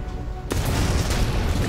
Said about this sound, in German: Blau explodiert das Schiff der Mavros.